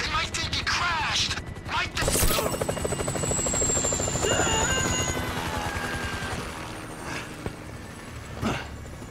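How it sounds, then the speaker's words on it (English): A helicopter in the video game GTA 5 drones with a steady, loud rotor chop and engine whine, joined by bursts of gunfire and mechanical clatter, with shouting voices briefly over it. "If I hit the chopper, everyone's gonna know we're here!"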